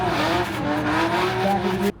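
A drift car's engine roars loudly and continuously at the SEMA Show in Las Vegas, with a sustained tonal whine that may be tire squeal, then cuts off abruptly near the end.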